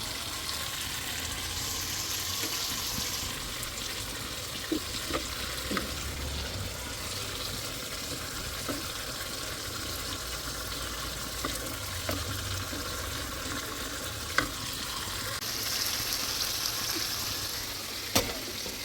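Fish cooks in a pan with the water it was boiled in, giving a low, steady sizzle and bubbling with occasional sharp clicks from stirring, close and fairly quiet.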